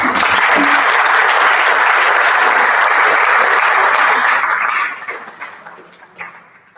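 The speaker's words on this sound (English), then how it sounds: "Just another round of applause." A round of applause from a conference audience at a Zoholics event in Cape Town, loud and sustained for nearly five seconds, then dwindling to a few scattered claps.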